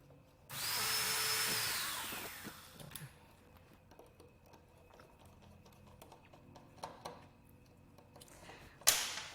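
A powered screwdriver whirs loudly for about two seconds, its pitch sliding down as it spins down, followed by quieter scattered clicks and handling taps during a robot dog build.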